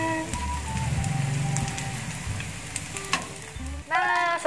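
Potato french fries sizzle in hot oil with a steady, close frying hiss under bursts of music, and a few stirring clatters stand out near the end.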